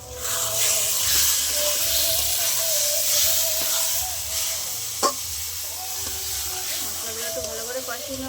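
Mutton with masala, green chilli paste and turmeric sautéing in a pot, giving a loud continuous hiss and sizzle with occasional stirring clinks and a sharp knock midway, no talk in between.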